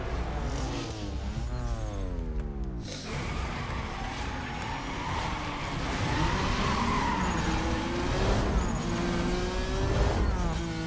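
A Renault Clio races in the Need for Speed Most Wanted video game, its engine whining and rising through revs, with repeated tyre skids and squeals sustained over about eleven seconds.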